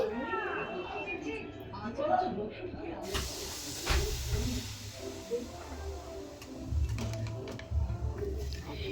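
Semolina stirred with vegetables in a pan as small splashes of water go in: a voice speaks at first, then a loud steamy hiss rises and carries on with scraping stirs while the talk continues over it.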